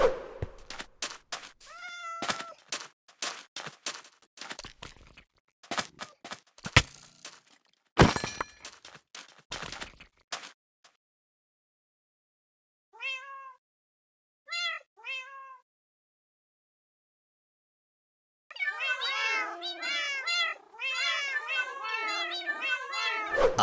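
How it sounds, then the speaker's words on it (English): Cats meow repeatedly in the Minecraft video game, scattered single calls giving way to a dense overlapping chorus of many meows, mixed with sharp cracking and thunking block-breaking sounds earlier on. "I have been listening to cats meow for hours."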